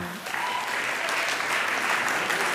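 A large crowd applauds at the Team Jumbo-Visma 2023 team presentation, a loud, continuous wash of clapping that holds steady throughout.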